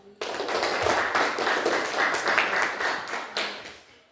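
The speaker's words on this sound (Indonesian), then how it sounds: "Mari kita sama-sama berikan aplaus kepada kelompok 1 karena jawabannya sangat memuaskan sekali ya" A classroom gives group 1 a round of applause, with many hands clapping at once in a dense, lively burst that holds steady for a few seconds before fading.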